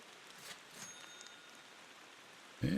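Soft, steady rain patters throughout in the driving game Motor Town, a faint even hiss with a few light drips, then cut off by a sudden louder noise at the very end.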